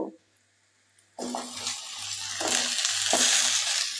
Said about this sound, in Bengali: এবার এই আলুর সাথে পেঁয়াজ আর রসুন আর একটু কষিয়ে নেবো